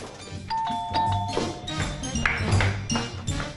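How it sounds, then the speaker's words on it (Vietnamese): A doorbell rings in a Vietnamese drama, its tones sustained over a busy, loud background of music and room noise with no clear speech. "Dạo này nhân viên tiếp thị có bấm chuông bừa bãi."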